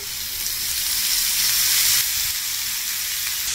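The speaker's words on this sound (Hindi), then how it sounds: "सगळ्यात आधी कांदा आपण परतून घेऊया" Chopped onion sizzling in hot oil over a fast flame, a steady close, bright hiss that holds evenly throughout with a slight swell toward the middle, with no voices.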